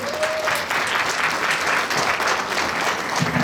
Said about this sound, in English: give a round of applause to the dignitaries who are here